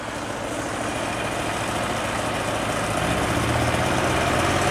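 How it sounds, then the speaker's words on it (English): A 70HP engine on a trailer-mounted cold-water jetter idles steadily with a low, even rumble, close and constant throughout, with no talk. "We're gonna start with this engine here. It's warmed up, ready to go. Motor running."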